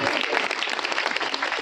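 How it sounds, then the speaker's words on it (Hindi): Brief burst of audience clapping at a Hindu religious discourse on the Bhagavat, a dense, lively patter of many hands close by. "तालियां तो बजाइए, आप"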